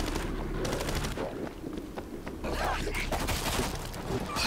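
Dense gunfire in the zombie shooter World War Z, rapid automatic bursts and booms pounding almost without pause under players' talking.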